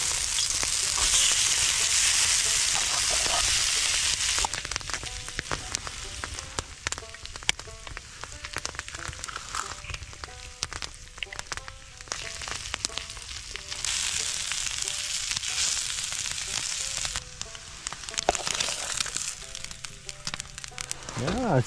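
Frozen corned beef hash fries on a DIY skillet outdoors, a steady crackling sizzle with intermittent scraping and stirring clinks, loudest at the start and again midway.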